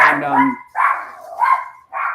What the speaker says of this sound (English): that's my dog and my doorbell